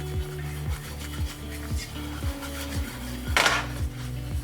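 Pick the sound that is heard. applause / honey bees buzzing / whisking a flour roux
whisking a flour roux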